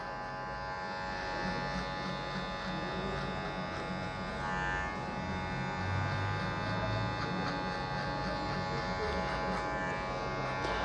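Electric hair clippers run continuously during a barbershop fade haircut, giving a loud, steady, close buzzing hum with slight changes as the blades move through hair and no pauses. Faint talk sits under the buzz.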